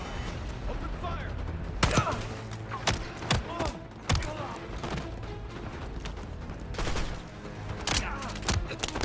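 Gunfire in the Call of Duty Black Ops 6 campaign as soldiers open fire: rapid overlapping shots and heavy thumping bursts come in a dense fusillade, loud and close, with faint voices mixed in.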